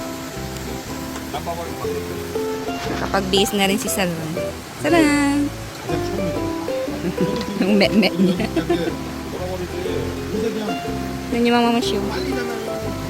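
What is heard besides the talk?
heavy rain during a typhoon at a campsite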